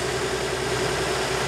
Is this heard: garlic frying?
no